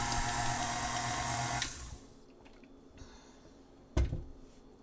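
An electric mixer whirs through sticky ciabatta dough in a loud, steady high-pitched drone, then cuts off, leaving quiet handling noises and one sharp knock near the end.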